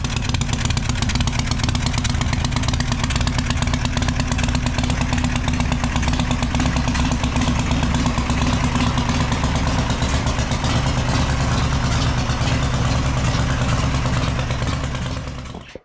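A custom FXR/Knucklehead motorcycle engine running steadily, a loud, dense mechanical roar with clattering texture held constant for the whole stretch before cutting off abruptly at the end.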